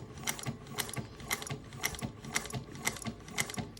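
A Juki 1541s sewing machine running slowly with two threads and no thread guide while stitching a one-of-a-kind bag: a faint, steady mechanical clatter with evenly spaced ticking beats.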